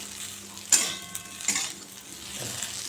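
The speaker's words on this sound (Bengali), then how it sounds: "ভাজার আর কি অবস্থা দেখো আলু ভাজা হয়ে গেছে নামিয়ে দেবো এবার" Potato slices fry in a hot pan with a soft, steady sizzle, punctuated by a couple of sharp clinks from a stirring utensil. No voices.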